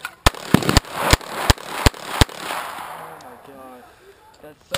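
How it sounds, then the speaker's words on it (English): An airsoft gun fires seven sharp, loud cracks in an uneven rhythm over roughly two seconds, close by, after which the shooting stops and only faint background noise and a few light clicks remain. "Hey, you're lucky I didn't have two of those. Yeah. See? It's an airsoft."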